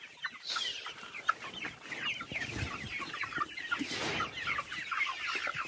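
Village free-range chickens cluck and chatter in a dense, continuous flock nearby, with scattered sharper squawks throughout and no speech over them.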